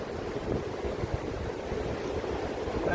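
Sea waves breaking along the Northumberland coast during a morning of shore fishing, a steady low rumbling wash with wind buffeting the microphone, continuous and fairly loud for three seconds with no voices.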